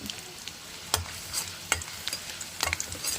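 Garlic fries in a pan with a soft continuous sizzle, broken by several sharp spatula scrapes and stirring clatters at an uneven rhythm, close by and without talk.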